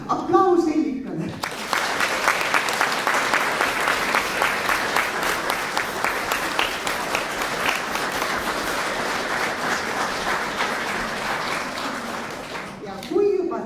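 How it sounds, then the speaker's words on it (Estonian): Applause from the audience at a concert by the folk music ensemble Kungla, a dense sustained clapping that swells quickly after a spoken introduction, holds steady for about eleven seconds, then fades as speech resumes. "Aplaus Hellikale."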